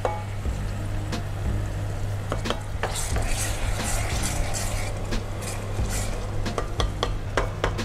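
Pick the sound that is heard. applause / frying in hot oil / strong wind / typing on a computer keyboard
frying in hot oil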